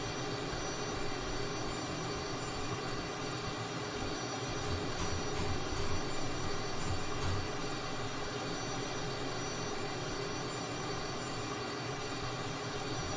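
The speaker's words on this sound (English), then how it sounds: "It's a Cessna T-37, a Tweet" Cessna T-37 Tweet jet in a flight simulator game, giving a steady, unbroken engine drone with a broad roar and a faint high whine, holding a constant level throughout with no talking.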